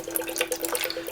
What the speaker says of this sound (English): Just let the worst of that water come out.